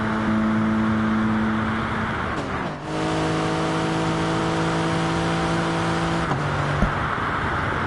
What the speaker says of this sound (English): Lovely noise that Lexus makes